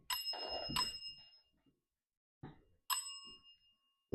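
A small bell placed in a quiet room for ghost hunting rings clearly twice with bright ringing tones, and a few soft knocks fall between the rings.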